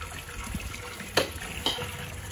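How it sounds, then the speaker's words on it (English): Water pouring from a tap or hose into a large pot for a crawfish boil, a steady splashing gush with a couple of sharp clanks, no speech over it. "We're gonna fill this up with water,"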